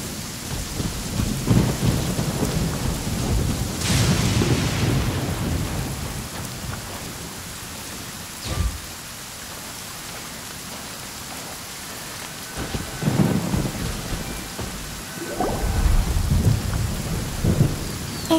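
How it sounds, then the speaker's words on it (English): A thunderstorm in the video game Genshin Impact: steady, full rain pours throughout while deep thunder rumbles roll in and out, with a sharper crack near the middle, and no voices. "Did you know that the sound of thunder is the prelude to new life?"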